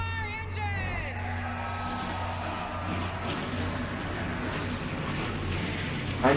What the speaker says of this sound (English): Engines are fired up.